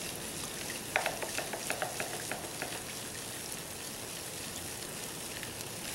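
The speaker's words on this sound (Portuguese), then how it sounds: "Vai misturando aí até o sal dissolver completamente." Salt is stirred into water to make a brine for preserving beach ghost shrimp bait, with a quick series of light taps and swishes for a few seconds over a steady background hiss.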